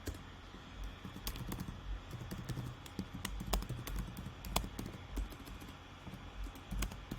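Rapid, irregular clicks of fingers typing on a computer keyboard, steady and close for several seconds with a few sharper key strikes standing out and no talking.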